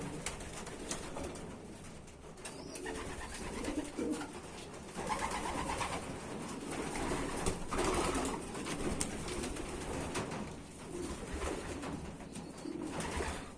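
Domestic pigeons coo repeatedly in soft, low, throaty calls against a constant noisy, rustling background.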